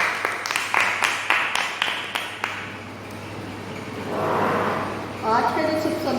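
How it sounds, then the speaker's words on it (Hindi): Sparse, uneven handclaps from a small prayer-service congregation welcoming God, a few sharp claps in the first seconds that fade into room noise and voices. "परमेश्वर के जोरदार तालियों से स्वागत करते हैं"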